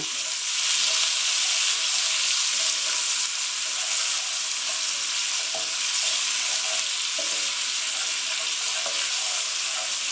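Colourful chard stalks sizzling in a pan as they are stirred, a constant close hiss of frying with soft scraping of the spoon, no voices.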